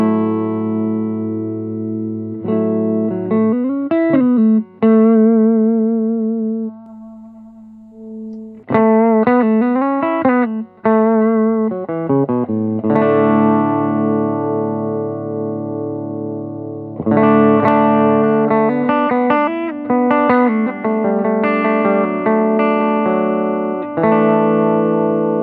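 A semi-hollow electric guitar plays chords and short melodic runs with pauses between phrases, clean and slightly effected, with no voices.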